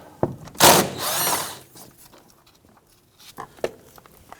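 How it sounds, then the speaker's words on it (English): A cordless impact driver works a bolt on the rear brake hose of a 2017-2020 Hyundai Elantra, with a short loud burst of rattling hammering, then quieter tool clicks and handling sounds nearby. "I'm going to go ahead and use my impact driver and loosen and remove this bolt"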